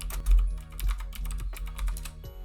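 Rapid typing on a computer keyboard, with a dense run of quick, close, crisp key clicks in an uneven rhythm and no talking.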